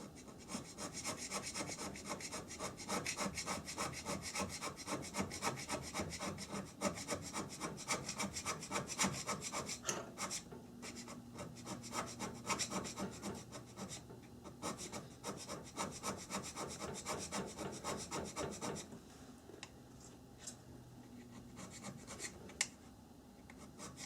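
Hand scraping on the cast-iron bed of a Myford lathe: a continuous run of close, rhythmic rasping strokes, dense and steady with brief shifts in tone, and no talking.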